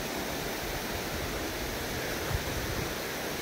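Ryuzu Falls in Nikko roars steadily beside a walking path, a dense, unbroken rush of falling water heard close up and loud, with no voices over it.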